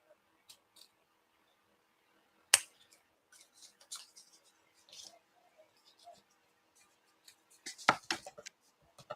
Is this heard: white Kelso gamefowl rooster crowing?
no